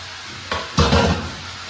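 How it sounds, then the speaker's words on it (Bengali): Fish heads go into a hot pan of oil in a Bengali home kitchen with a sharp hiss. A louder sizzling burst follows close up, then it settles to a steady crackle, with no voices. "এবার আমি মাছের মাথাগুলো এই দেখো দিয়ে দিচ্ছি"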